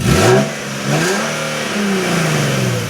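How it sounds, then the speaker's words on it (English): A nearby 2014 Infiniti Q60 IPL engine revs up and down several times, its raspy exhaust note rising and falling in pitch. "I'm going to give it a little bit of exhaust."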